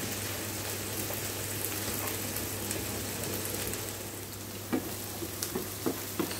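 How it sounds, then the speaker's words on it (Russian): Onion fries in a pan with turmeric and ground black pepper for a village-style plov, giving off a steady, even sizzle. A few light stirring clicks come through near the end, and no one speaks. "Все, лук стал полупрозрачным, начинает обжариваться."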